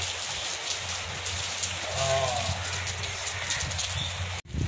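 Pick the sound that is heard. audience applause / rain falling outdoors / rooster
rain falling outdoors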